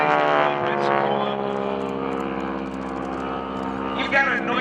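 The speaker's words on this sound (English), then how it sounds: "that's actually the propeller makes all that noise" An SNJ / T-6 Texan airplane in flight at a Pensacola airshow gives off a loud, steady propeller drone with a layered harmonic buzz, holding throughout as a voice talks over it.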